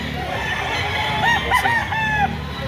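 A rooster crows in repeated rising calls at a busy chicken market in Lipa City, Batangas, with other fowl clucking and background chatter all around.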